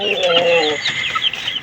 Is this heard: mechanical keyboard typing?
no